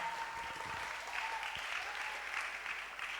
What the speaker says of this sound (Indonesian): Tepuk tangan untuk narasumber segmen pertama